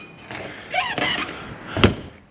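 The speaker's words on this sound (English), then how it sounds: "pull this back to lock your door in" A travel trailer entry door on an XLR Boost 21QBS toy hauler is pulled closed and latched, with creaks and soft scraping followed by a single sharp, close metallic clack.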